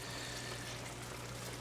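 Yellow curry with coconut milk simmers and bubbles in a pan, giving a steady, faint, close-up fizzing hiss with no talk over it.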